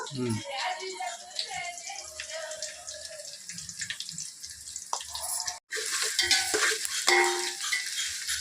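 Ginger garlic paste sizzles and spatters in a hot pan while being stirred for a village-style chicken biryani, a steady close frying hiss with scraping, briefly cutting out partway through.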